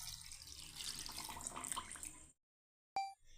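Boiled and cooled milk streams into a blender jar for a mango milkshake, a continuous splashing pour that stops abruptly, followed by a brief clink after a short silence.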